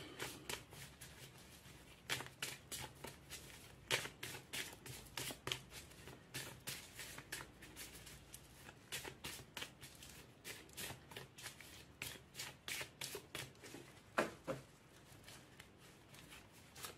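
Tarot cards being shuffled by hand ahead of a reading, a long run of quiet, close riffling and patting bursts in an uneven rhythm with no talking.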